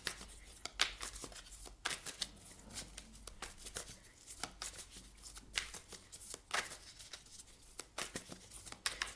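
Oracle cards for a tarot-style reading are shuffled steadily for about nine seconds, a quiet, continuous run of riffling and sliding card flicks with frequent soft bursts, heard alone without talking.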